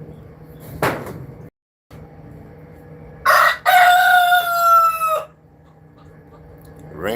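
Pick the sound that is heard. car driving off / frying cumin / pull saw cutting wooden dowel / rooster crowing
rooster crowing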